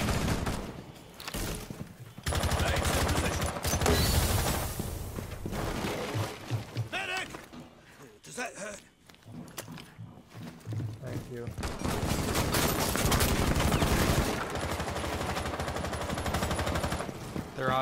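Automatic weapons fire in Rainbow Six Siege, long loud rattling bursts of gunfire with short lulls between them, under excited talk from players.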